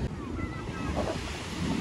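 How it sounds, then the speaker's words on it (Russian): Sea surf washes in on a beach at Fiumicino, Italy, under gusty wind buffeting the microphone, a continuous rushing roar at a moderate level. "Такие волны, ветер, шикарно."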